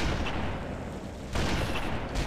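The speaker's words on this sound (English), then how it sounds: "Hunter's gonna shoot at me." Heavy weapon fire from a Hunter in Halo: Combat Evolved, two loud blasts about a second apart over dense game noise.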